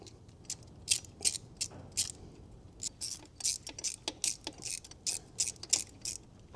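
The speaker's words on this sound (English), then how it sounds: "And from there, we're just gonna tighten these down." A ratchet wrench clicks in quick, regular bursts while bolts are tightened on a 6.7 Powerstroke diesel engine, close and fairly quiet, with brief pauses between runs and no talking.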